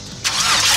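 An LS-swapped Ford Mustang engine cranks briefly and then catches, jumping into a loud, steady roar that carries on to the end, close and without talk.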